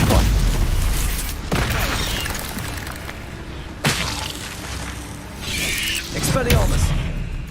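The Stupefy spell cast in the Hogwarts Legacy video game during a fight, heard as booming magical blasts and sharp impacts amid continuous combat noise, with a voice shouting over it.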